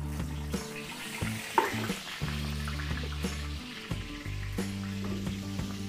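Cooking oil and Star margarine heat in a pan for chicken afritada, giving a steady close sizzle and frying crackle under a low background hum, with a few small clinks.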